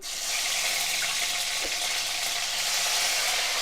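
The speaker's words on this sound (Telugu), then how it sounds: "అవి బాగా వేగనిద్దాము" Boiled eggs frying in a pan, giving a dense, continuous hiss-like sizzle at a steady level, with one faint low knock partway through.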